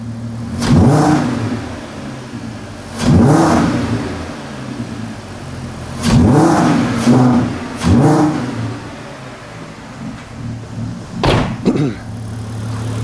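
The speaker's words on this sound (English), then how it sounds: "Crank rattle, give it a rev." A Volkswagen Golf R32 engine, checked for a crank rattle, revs in about five sharp bursts that rise and fall back to a steady idle, loud and close with no talk.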